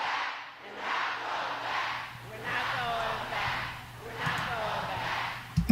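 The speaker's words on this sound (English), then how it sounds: "And then a chant is started in the crowd there, saying, "We're not going back."" A rally crowd chants a slogan in rhythmic surges, roughly five swelling repeated phrases of many voices, moderately distant and steady, with a brief thump at the end.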